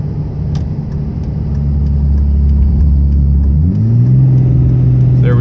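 A 3rd-generation 5.9 Cummins diesel pickup towing a load up a mountain pass, its deep engine drone loud and steady, then shifting pitch upward as the transmission changes gear, with no talk over it.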